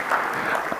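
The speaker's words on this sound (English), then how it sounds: "So let me have the original clapping, please, not the AI one." Audience clapping in a hall at a tech summit, a dense continuous wash of many hands applauding at a steady level, fairly loud and close, with no voices standing out.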